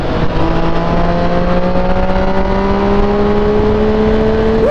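Car engine pulling strongly while accelerating to overtake on the motorway, a loud steady drone with rising tones climbing smoothly throughout, heard from inside the car with no talking.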